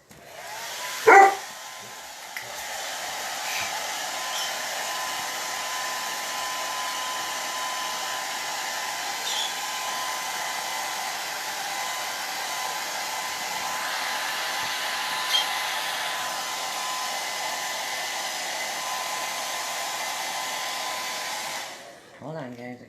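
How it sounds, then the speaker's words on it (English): A hair dryer blows steadily and loudly for about twenty seconds, drying paint on a bumble bee flower pot, with a short dog bark near the start and the dryer cutting off at the end. "I'm going to blow dry this one more time."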